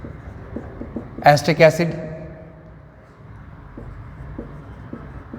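Marker on a classroom board writing chemical names during a chemistry lecture on carboxylic acids, a brief burst of squeaky strokes near the start, with someone speaking throughout.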